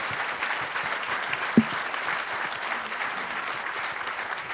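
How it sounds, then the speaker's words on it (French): Audience clapping at a local-life awards ceremony, a dense, even round of applause from a seated crowd, steady throughout with one sharper clap standing out midway. "On peut applaudir l'association La Maison Escargot."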